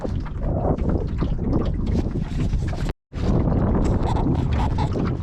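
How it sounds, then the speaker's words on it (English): Strong, steady wind roars and buffets the microphone aboard a sailboat tacking across a lake in a southeasterly breeze, a continuous loud rush with a momentary cut near the middle. "So that wind is now coming literally southeast, like standard southeasterly wind"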